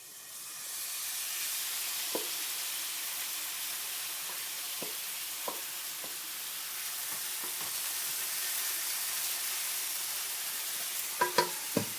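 Korean bulgogi sizzles in a hot pan, a steady, bright frying hiss held close throughout, with a few faint clicks of a utensil now and then and no voices.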